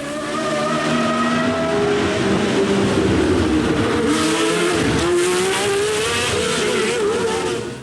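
Racing cars at Monaco Grand Prix practice roar past loudly and continuously, engines revving and shifting pitch, with one car sweeping close by midway through.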